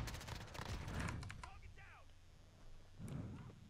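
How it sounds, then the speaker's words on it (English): Enemy gunfire in the Call of Duty Modern Warfare video game: bursts of rapid shots at the start and again near the end, with a player talking over the gaps between them. "Oh, he's shooting at me."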